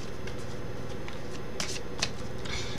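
A deck of cards is shuffled by hand in a few quick riffling bursts, close and fairly quiet over a steady background hiss.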